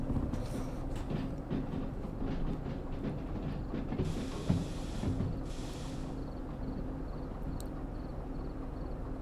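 Train rolling along rails in the video game Derail Valley, a steady continuous rumble with faint rhythmic clatter and brief hissing bursts, loud and close throughout with no talking.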